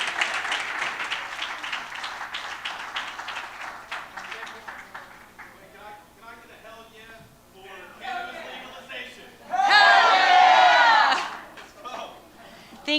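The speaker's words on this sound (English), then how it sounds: "can everyone give a huge thank you and round of applause to Jeremy and Kyle." Audience applause and cheering at a national cannabis policy summit, loud clapping that thins out, followed by a burst of loud cheering toward the end, with murmured voices in the room.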